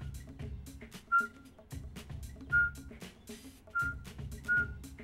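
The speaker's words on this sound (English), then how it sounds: "it always helps if you make that little whistle when you're cutting" A man whistles short, bright notes while slicing hot dogs, with four brief whistles spaced about a second apart amid soft knife and kitchen sounds.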